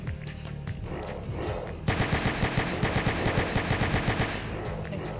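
Automatic gunfire from a weapon in a Roblox zombie survival game, rapid evenly spaced shots in a long loud burst after a brief stretch of background game noise.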